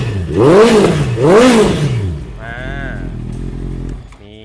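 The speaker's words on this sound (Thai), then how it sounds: "มาฟังเสียงท่อกันหน่อย" A Honda CBR650R motorcycle's exhaust is revved twice, each rev rising and falling loudly up close, then it settles into a steady idle that fades near the end.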